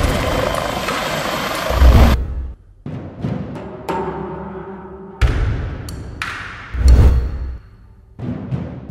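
Bell 429 GlobalRanger helicopter rotor noise cutting in and out in bursts during a crash near an airfield in Poland, with dull heavy thumps between sections; loud and close, with no voices.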